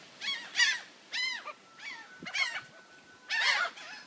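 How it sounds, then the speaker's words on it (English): Seagulls being fed in front of a house give loud, harsh calls in separate bursts, several overlapping squawks with short gaps between them and no voices. "seagulls that are out in front of the house."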